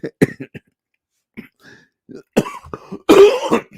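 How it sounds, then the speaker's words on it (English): Several sharp coughs and throat-clearing bursts, close and loud, with short pauses between them, ending in a louder cluster of harsh coughing. "You're making me cough now"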